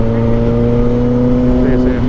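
A noisy motorcycle exhaust drones steadily up close while riding, a constant low engine hum with wind rush and no break.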